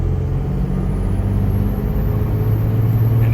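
A 2004 Cummins diesel pickup truck accelerates in third gear lockup, giving a steady, loud, low engine rumble and drone that holds evenly throughout with no talking.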